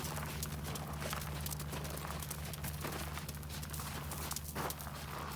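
A horse canters on a circle in an arena, its hoofbeats a soft rhythmic clip-clop under steady broadband noise, moderately near and continuous, with no voices.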